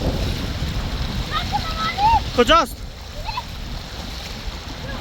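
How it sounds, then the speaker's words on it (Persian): Rising river water splashes along a bank in a natural outdoor setting, a continuous rushing wash with a brief nearby splash. Children and adults speak anxiously over it. "حجم آب داره بیشتر میشه."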